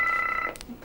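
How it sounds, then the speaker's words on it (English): A phone rings with a brief electronic two-tone trill for about half a second, fairly faint, followed by a couple of soft clicks. "My phone's ringing"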